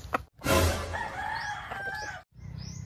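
A native rooster crows loudly nearby in one long call, with a short cluck before it and quieter rustling afterward.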